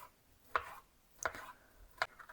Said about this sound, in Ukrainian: Почистила, нарізаю